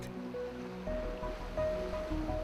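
Cliff Geyser at the edge of Iron Spring Creek in Yellowstone bubbling constantly, a low churning water rush with a faint tonal whistle running through it, steady and unaccompanied by talk.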